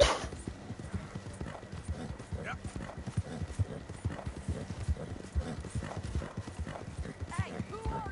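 Horse hooves clip-clop at a steady walking rhythm in the open-world western game Red Dead Redemption 2, fairly close and continuous throughout, with someone talking over them and faint ambient background.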